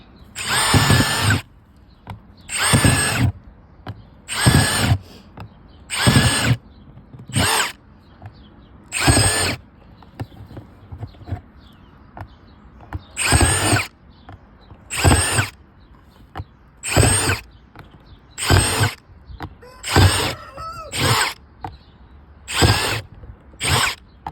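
A power drill bores drainage holes in the bottom of a deep, large plant pot for tomatoes: repeated loud, close whining bursts, each a second or so long, separated by short pauses throughout.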